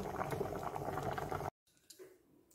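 Sweet tamarind chutney boiling in a pan gives a dense, bubbling simmer that runs steadily, then cuts out abruptly to near silence with faint stray sounds afterward.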